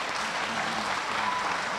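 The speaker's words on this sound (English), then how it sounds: "A big round of applause," An audience applauds at a fireside chat with former Tanzanian President Jakaya Kikwete, a steady, even wash of clapping that carries on without a break.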